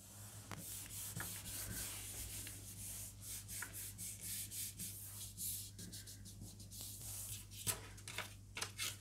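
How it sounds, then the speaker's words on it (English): A paper rubbing is pressed wax side down onto a gel print and rubbed by hand, making soft, close scuffing and brushing strokes in an uneven rhythm, faint and without speech. "put it the wax side down, and rub gently but firmly all over"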